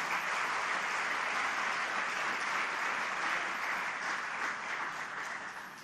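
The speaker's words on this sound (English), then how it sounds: "Please give him a round of applause." An audience at the opening of the 51st Pacific Islands Forum gives a dense, sustained round of clapping that holds steady and then eases slightly at the end.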